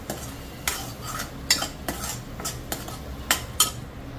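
Thick spiced masala for a mutton curry is stirred in a pan, a spoon scraping the metal in several distinct strokes against a quiet cooking background.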